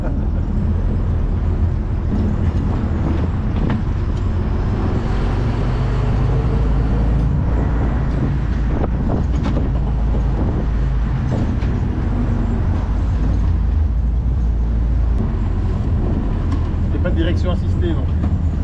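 A 1942 Willys Jeep rolls over bumpy ground, its engine rumbling loud and steady while the body jolts and rattles in uneven knocks; voices talk over the drive throughout.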